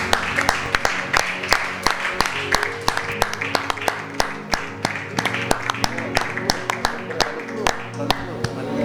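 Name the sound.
church congregation clapping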